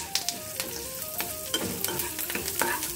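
Tamarind, black peppercorns and curry leaves dry-roasting in a pan for a turkey berry thogaiyal, with steady stirring scrapes and light crackles over a soft sizzle, close and moderately loud.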